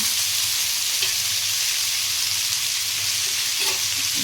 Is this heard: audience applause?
no